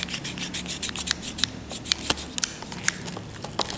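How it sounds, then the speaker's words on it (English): Scissors snip through a toy doll's hair up close, a quick run of crisp cuts with brushing and rubbing between them and no talking. "Okay, so let's cut her hair together."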